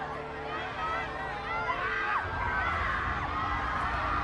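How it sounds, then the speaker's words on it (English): Fans at a Harry Potter film premiere in a crowded outdoor setting produce a continuous wash of distant screaming and shouting, with a steady low rumble underneath and no pause. "The screaming is amazing."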